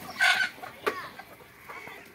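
Chickens on a farm raising Egyptian Fayoumi fowl give a loud burst of clucking, then a sharp squawk and fainter scattered clucks, with no talking.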